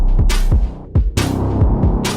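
A stereo software synthesizer patch played with two unison voices, giving a loud, thick throbbing tone with repeated swelling notes and bright noisy bursts, heard alone without talk.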